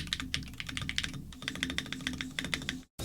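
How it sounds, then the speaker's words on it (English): Rapid typing on a Backspace OASIS 75 keyboard with Gateron magnetic switches, a close, quick run of crisp clacky keystrokes with a brief pause near the end. "once you start using the keyboard, you can not just feel the quality, but also hear it. So here's a sound test."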